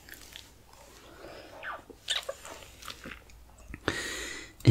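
A Shih Tzu dog chews small torn bits of treat up close, with scattered crunchy bites and wet chewing sounds, quiet and irregular, ending in a sharper loud crunch.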